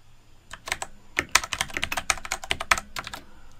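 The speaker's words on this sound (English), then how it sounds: "I'm just typing" Rapid, uneven typing on a computer keyboard while working in Microsoft Office, with close, crisp key clicks in quick bursts and short pauses, no voices.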